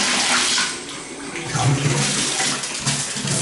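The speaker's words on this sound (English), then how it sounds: "I do want to show you that it's got great water pressure." Water runs steadily with a full, rushing hiss, like a shower spraying hard and splashing as it drains, close by and continuous.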